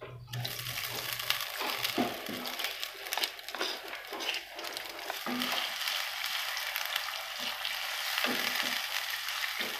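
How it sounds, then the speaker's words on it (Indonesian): Spice paste for Nias-style village chicken curry with roasted coconut sizzles and fries steadily in a pan, with occasional stirring scrapes over a continuous hiss. "Bumbunya akan kita tumis sampai benar-benar wangi, sampai layu dan wangi."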